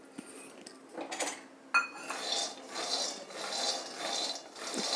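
Peanuts being dry-roasted and stirred in a hot kadhai give off scattered metallic scrapes and clinks of a spoon against the pan, with rustling of the nuts in between and one sharper knock, all fairly quiet with no talk.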